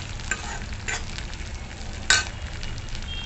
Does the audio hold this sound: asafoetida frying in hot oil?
yes